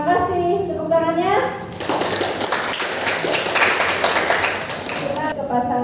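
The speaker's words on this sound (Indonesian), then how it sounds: "Tepuk tangannya." Audience applause at a school student council election debate, broad sustained clapping from a crowd filling most of the stretch after a brief stretch of spoken voice at the start.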